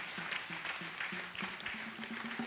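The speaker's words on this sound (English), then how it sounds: "Can we clap our hands together for Jesus?" A church congregation at a birthday celebration claps hands for Jesus, giving a fairly quiet, steady patter of many hands at a distance with no voices on top.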